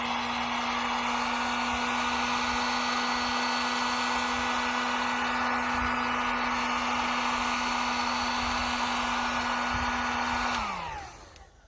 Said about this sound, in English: we can use the heat gun to kind of push that wax further into the fibers of that